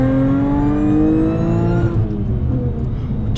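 A supercharged 2014 Audi A6 APR engine roars loudly and steadily up close, its pitch climbing as it accelerates, then easing off toward the end.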